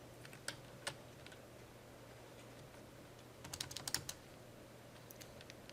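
Keys tapped on a computer keyboard while editing code, with a couple of isolated clicks early and a quick cluster of typing strokes in the middle, all faint and close under a steady low hum.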